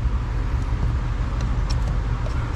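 The high-speed AC blower of a 2005 Chrysler Town and Country runs on high as a steady, dense whoosh with a low rumble underneath, unbroken throughout, with no talking.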